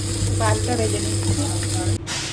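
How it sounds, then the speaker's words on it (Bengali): Cooked rice fries in an oily pan, a steady close hiss with faint stirring under a constant background hum and some brief talking. "ভাতটা ভেজে নিচ্ছি"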